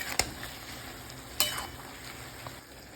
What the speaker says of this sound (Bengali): দিয়ে দেবো ধুয়ে রাখা মুগ ডালটা, ভালো করে নেড়ে চেড়ে নেব।